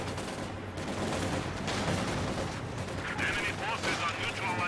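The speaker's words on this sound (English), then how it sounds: "G43s, I love the sound of those." Rifle gunfire from G43 rifles in a World War II shooter match, with repeated pops and bursts of shots over a constant game backdrop, partly mixed with other battle noise.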